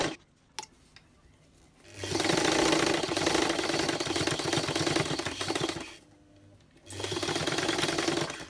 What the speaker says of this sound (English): So we come and we lock the stitch in back with the next one, and we back stitch.